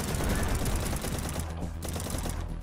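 Rapid nail gun fire in the shooter Project Warlock, a dense stream of fast mechanical shots that thins out into a few separate bursts near the end.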